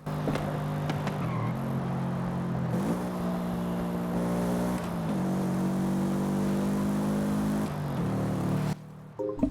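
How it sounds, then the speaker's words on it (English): A low boxer flat-four car engine in the racing game Forza Horizon 5 drones with a steady, humming tone, shifting pitch a few times as it revs, then cuts out abruptly near the end. "This car also has a very, very unique engine noise. This one's very low, the Boxer 4-cylinder. Flat 4. Listen to this thing."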